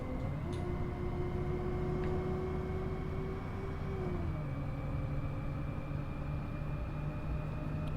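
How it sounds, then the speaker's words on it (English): A bus engine drones steadily while driving in the simulator game OMSI 2, a low, even hum with faint tonal whine that shifts down in pitch partway through as the engine changes gear, quiet throughout. "It sounds so good, the bus, doesn't it?"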